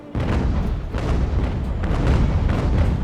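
Naval cannon firing grape shot in an Ultimate Admiral: Age of Sail battle, a loud run of deep booming blasts rolling one after another with rumbling low-end throughout.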